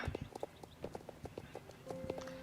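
Horse hooves clip-clop at a steady walking rhythm on a woodland trail ride in the Star Stable video game, quiet and close, with a faint tonal game sound near the end.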